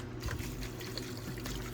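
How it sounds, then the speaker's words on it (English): Distilled water pours and trickles over a refined pure silver crystal during rinsing, a steady, close splashing stream that lasts throughout. "I'm just going to rinse it over and over with more distilled water"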